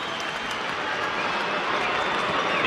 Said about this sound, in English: And as you can hear, Murph, the crowd get involved.